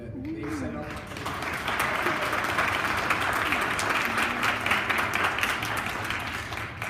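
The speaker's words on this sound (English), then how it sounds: "give a round of applause for Dawn and Debbie and Raven that they set up" An audience claps steadily through a Read Write to Succeed Day event at CCD, with a dense, even wash of applause and a brief voice near the start.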